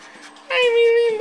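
A puppy gives a sustained high whimpering whine lasting about a second, close and fairly loud, with faint background chatter before it.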